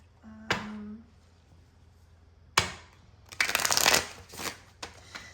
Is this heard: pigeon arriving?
no